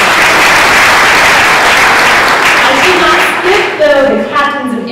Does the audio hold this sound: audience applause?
yes